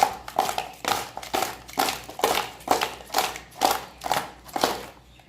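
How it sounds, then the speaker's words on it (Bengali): Repeated soft rustling shakes as prawns are tossed with salt and turmeric in a steady rhythm, about a dozen bursts, close by with nothing else around them. "চিংড়ি মাছগুলো ভালো করে ঝাঁকিয়ে দিচ্ছি"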